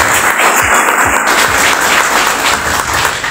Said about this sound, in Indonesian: Beri tepuk tangan buat kalian.